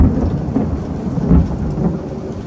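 Very loud thunder rumbles low and deep during a heavy thunderstorm, with rain hissing steadily throughout and no voices.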